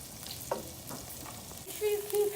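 Onions, garlic and scallions fry in oil with a soft sizzle under light stirring clinks and scrapes. A brief tonal squeal sounds near the end, fairly faint and close.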